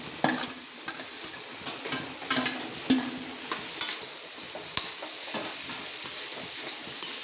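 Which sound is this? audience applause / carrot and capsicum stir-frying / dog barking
carrot and capsicum stir-frying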